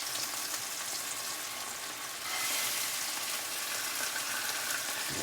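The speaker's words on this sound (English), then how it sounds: "we'll flip it back over onto the flesh side and let it cook just a hair longer on it" Salmon pan-searing in a hot pan, sizzling with a steady, close crackling hiss that swells slightly louder partway through and continues without pause.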